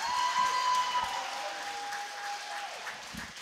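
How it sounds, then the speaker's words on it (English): At a high school boys' swim and dive meet, Stillwater against Cretin-Derham Hall, a crowd applauds and cheers loudly in a sustained wash of clapping, with a whistle-like tone sounding partway through. "both teams cheer really loudly for everybody"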